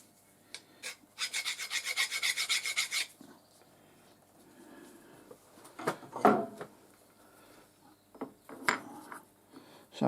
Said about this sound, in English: take a file and just make sure there's no burr on the edge